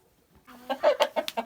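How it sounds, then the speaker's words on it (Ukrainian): Free-range hens of Livenska calico, Barbezieux and Minorca breeds in a summer run, clucking in a quick close series of short notes after a brief quiet start. "А тут бігають курочки, які були в нас в стані."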